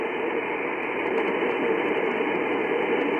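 Steady hiss of radio receiver noise with the RF gain and preamp turned way up on a Malahit DSP2 or Icom 705, a constant broadband static that stays loud and unchanging throughout with no voices.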